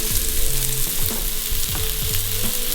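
Carrots sauté in an Instant Pot with a steady, close sizzle and frying hiss, while a spoon occasionally stirs and scrapes through them.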